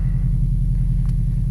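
A Subaru WRX engine runs on its first start after parts work, a loud, steady low rumbling idle with an even pulsing throb close by.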